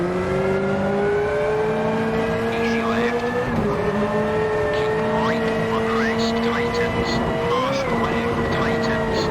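Rally car engine in a twisty, narrow-stage rally sim video game, droning steadily throughout with a close, sustained tone and shifts in pitch as it revs, alone without talk.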